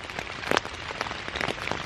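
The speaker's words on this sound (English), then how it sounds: "for a rainstorm that wasn't in the forecast, it hasn't let up" Rain falls on a tent during an unexpected, cold November rainstorm, a dense and steady patter of drops close overhead with a few sharper taps.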